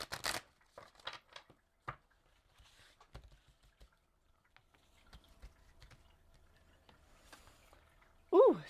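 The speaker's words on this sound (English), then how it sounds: "one more good shuffle and then we'll spread them" Tarot cards are shuffled by hand, giving soft, scattered papery ticks and riffles that are quiet and close, with a short sharp sound near the end.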